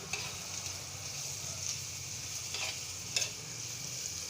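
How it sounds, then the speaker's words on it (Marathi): Onion and green chillies sauté in oil in a pan, a steady close sizzle with a couple of brief stirring scrapes, moderately quiet and constant throughout. "आता छान मी हे परत परतून घेते आणि भाजून घेते"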